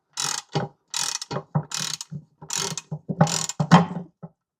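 A ratchet clicks in quick bursts of rapid pawl ticks, pausing between strokes, while removing the sump bolts from a seized Yamaha R6 motorcycle engine at close range.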